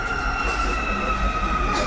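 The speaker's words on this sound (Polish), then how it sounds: "Uwaga, pociąg. Kierunek Bemowo." A Warsaw metro train pulls into a station on the Bemowo line, a loud steady rumble with high wheel squeal and whine filling the platform throughout.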